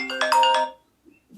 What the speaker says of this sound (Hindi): जैसे अभी एक इनकमिंग कॉल आ रहा है